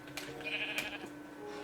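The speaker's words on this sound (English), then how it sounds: "They have very, very weird faces, those sheep." Minecraft sheep bleats in a short burst, a near, clear pair of wavering game-animal calls over a faint steady background hum.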